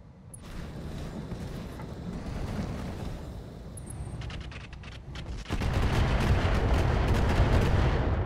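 Mortar artillery fire in the Roguetech video game rolls as a sustained heavy rumble of blasts, then swells into a louder, denser barrage of booms near the end.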